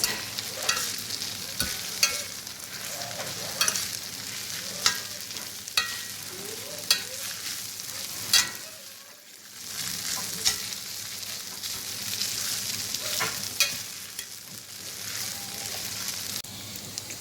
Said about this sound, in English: I'm going to give this a mix.